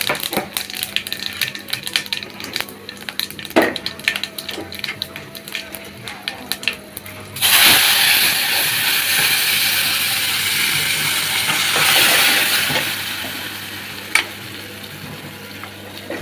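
Bay leaves and panch phoron frying in hot oil while cooking pumpkin stems, small potatoes and dal: light clicks and clatter, then a sudden loud, steady sizzle that stays close and crackles on.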